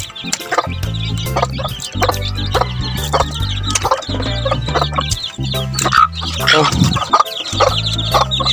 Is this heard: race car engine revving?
no